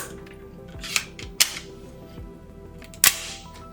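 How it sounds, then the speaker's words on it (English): Metal clicks from a NEMO Mongoose rifle as the bolt is released forward with the release lever and pulled back to lock, three or four sharp, close snaps spread over a few seconds of quiet. "releasing the bolt forward with the bolt release lever, pulling it back to a locked position, and release it with the bolt lever"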